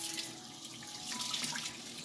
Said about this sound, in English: So what we're gonna do next then is we're just gonna rinse him off.